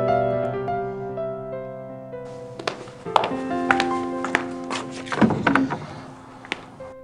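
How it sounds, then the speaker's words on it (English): Hidden passage mechanism clicking open in the adventure game Gabriel Knight 2, a few sharp taps and thunks sounding over sustained, ominous game music. "That was the definite sound of a click."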